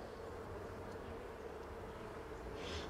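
Honeybees in an opened hive give off a low, continuous buzzing hum, faint but steady throughout, with no voices.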